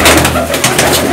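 A racing pigeon from a pigeon-flying hobbyist's loft coos close by, a few soft, throaty, rolling calls in quick succession with no talk over them.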